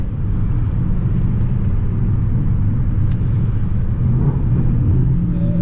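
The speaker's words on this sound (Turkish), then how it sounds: "direkt gaza her oturduğunuzda düşürüyor ve araç fırlıyor arkadaşlar" A 2016 Volkswagen CC Passat 1.4 TSI, 160 HP, with DSG gearbox accelerating hard, heard as a loud, steady low engine and road rumble from inside the cabin.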